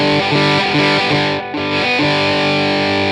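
Electric guitar through a distortion pedal in the NI Guitar Rig plugin: loud, saturated sustained notes and chords changing rhythmically, with a brief dip before ringing on.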